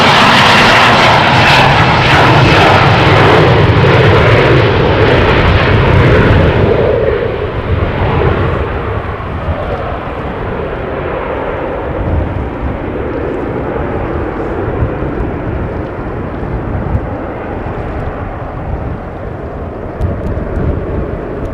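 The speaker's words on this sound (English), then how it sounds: "Dreamliner outbound to JFK already approaching" A Boeing 787 Dreamliner jet departs Amsterdam Schiphol airport, its engines roaring loudly and close at first, then the broad rumble fades and lingers as the aircraft climbs away.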